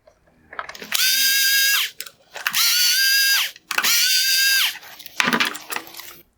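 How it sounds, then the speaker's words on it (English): Cordless driver removing T20 screws from the AFS motor of a 2013-2017 Range Rover xenon headlight: three loud, close whirring bursts of about a second each with brief pauses, then a short rattling clatter. "going to release the 4 T20 screws holding on the AFS motor"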